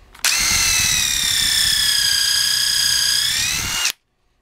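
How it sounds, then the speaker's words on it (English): A DeWalt 887 driver on second speed spins a countersink drill bit for about four seconds, a loud steady whine with a sharp start and a quick wind-down, with no talk. "if you have one like this Dewalt 887 with the 3 speeds, put it on the second speed so that it's around 2800 RPMs or less"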